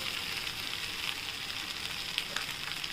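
Roasted poha stir-fried in a pan for corn upma, producing a dense continuous sizzle with faint stirring scrapes, close and even throughout.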